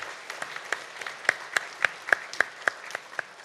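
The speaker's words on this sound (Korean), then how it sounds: "두 분 단체장님께 격려의 박수 좀 한번 부탁 올리겠습니다" A small audience applauds at a community self-governance convention, a thin, steady patter of claps with a few sharper individual claps standing out, fairly quiet and with no talking.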